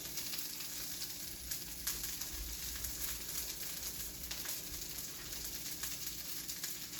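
Food searing in a semi-hot pan gives a faint, steady sizzle and hiss, with soft crackles underneath, heard at a low level throughout.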